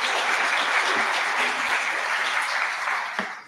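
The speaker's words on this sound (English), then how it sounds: "Everybody, please give a round of applause" Audience applause at a lecture hall event, a dense, steady clapping from a crowd that fades slightly toward the end.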